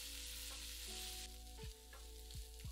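Chopped onion, garlic, green chilli and curry leaves sauté in a hot pan for an egg korma, giving a steady close sizzle with a few sharp scrapes of a stirring spoon toward the end.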